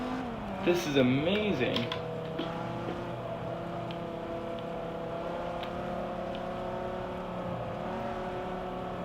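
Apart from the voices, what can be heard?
race car engine at full throttle in video game Forza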